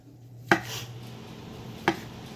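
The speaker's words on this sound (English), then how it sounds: "But first I'm going to slice up these mushrooms." A knife slicing through mushrooms on a cutting board, two sharp separate chops about a second and a half apart over a faint background hum.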